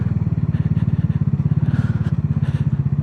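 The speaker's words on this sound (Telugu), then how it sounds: "లేదు పర్లేదు, 1-2 బైకులు మాత్రమే ఉన్నాయి," A motorcycle engine idles close by on a mountain road trip in winter, making a steady, rapid low thumping that stays loud throughout with no one talking.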